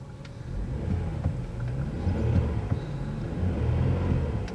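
A Cadillac CTS engine idles, a low steady rumble with slight fluctuations and faint ticks, heard from close by with no talking.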